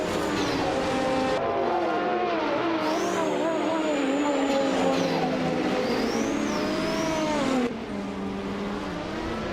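Race cars roar around a track in a loud, continuous blend of high-revving engines, with pitch rising and falling as they accelerate and shift, plus a brief tire squeal.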